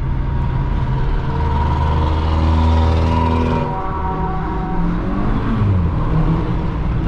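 A VW Golf GTI Mk5 driven through a tunnel: a loud, close engine drone with strong harmonics climbs steadily, then a quick gear shift drops the pitch midway before it pulls upward again, echoing off the tunnel walls.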